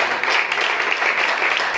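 A church congregation at a Mother's Day service applauds together, a loud, thick, continuous clatter of many hands that stays even and unbroken throughout the short stretch.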